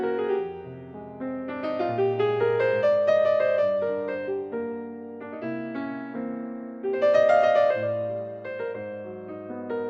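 Bolton Imperial Concert Grand piano voice on a Yamaha Montage 8 synthesizer, played alone with full, resonant bass notes under rich sustained chords, steady and close throughout.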